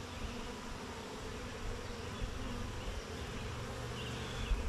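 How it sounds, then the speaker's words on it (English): Bees buzz steadily inside an opened beehive, a quiet, dense hum from many insects close by, with an occasional louder individual passing near. "There must be triple the bees in this hive as the other one I opened just a minute ago."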